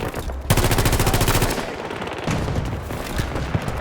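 A gun in Battlefield 2042 fires an extremely fast burst of rapid shots that crackle loud and close. More scattered gunfire and battle noise follow.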